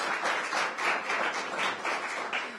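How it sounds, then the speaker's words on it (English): Audience applause for Deputy Mayor for Education Jenny Niles at a partnership launch event with DC Public Schools and Howard University: a steady, dense patter of many hands clapping, fairly close and even, with no break across the stretch. "Give her a round of applause."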